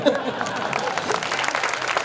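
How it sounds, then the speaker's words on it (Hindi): Applause from an audience, a dense patter of clapping spread across the whole stretch, steady and fairly loud with a murmur of crowd noise beneath. "अगली बात पर और तालियां उठे"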